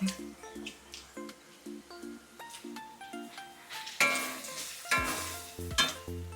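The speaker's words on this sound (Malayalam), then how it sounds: "അപ്പോൾ സബോളയും അതുപോലെ തന്നെ ഇഞ്ചി വെളുത്തുള്ളിയൊക്കെ ഒന്ന് വഴറ്റി വന്നിട്ടുണ്ട്" Onion, ginger and garlic sauté in a pan, with a soft sizzle and occasional stirring scrapes heard quietly beneath melodic background music.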